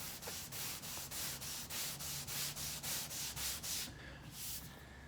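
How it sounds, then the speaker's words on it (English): A 12-inch triangle sanding block with 320-grit dry paper is worked back and forth along a curved automotive quarter panel. It makes a regular series of rasping strokes about twice per second, close and loud, and stops near the end. "sanding the long way, exposing any low areas that are there"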